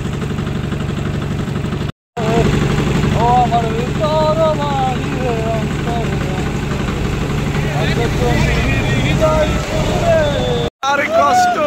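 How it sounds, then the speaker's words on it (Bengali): Motor boats move in a line toward the floating guava market at Swarupkathi, their engines chugging steadily up close while people talk over the drone. "সারিবদ্ধভাবে নৌকাগুলো আসতেছে"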